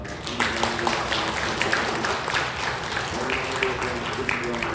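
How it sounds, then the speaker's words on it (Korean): A church congregation at a Sunday worship service applauds together in a dense, sustained round of clapping that runs for several seconds, fairly loud and close, with scattered voices mixed into it. "주님 앞에 감사와 찬송과 영광의 박수를 올려드리겠습니다."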